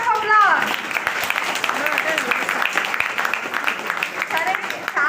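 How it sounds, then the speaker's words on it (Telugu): An audience gives a big round of applause at a gathering, a steady crackle of clapping that runs throughout the clip. A voice keeps talking over it. "ఒక్కసారి బిగ్ రౌండ్ ఆఫ్ అప్లాజ్"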